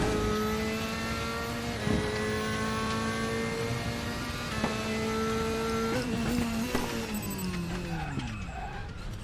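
Audi DTM 2016 race car lapping in the RaceRoom racing game, its engine droning steadily and loud with pitch climbing through gears, then sharp downshifts and a falling whine under braking near the end.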